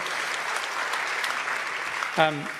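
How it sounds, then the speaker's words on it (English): An audience at an electrification event in Bendigo claps at a moderate level for a couple of seconds, ending with a brief voice near the close. "Huge round of applause for Saul doing it tough in Bendigo"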